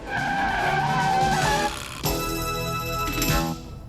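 Cartoon race car Turbo pulls up with a loud screech of skidding tires, a sustained squeal that cuts off sharply, followed by a brief revving engine and a short metallic rattle, close and loud.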